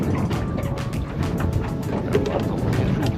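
Wind gusting over open water on a foggy, slushy fishing outing at two degrees, a steady close rushing buffet against the microphone with no talk.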